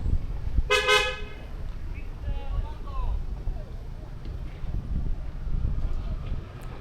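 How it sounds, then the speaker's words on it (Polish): A car horn gives a single short toot on a road, distant and brief, over steady traffic rumble and wind noise, with people talking nearby. "Trąbią samochody."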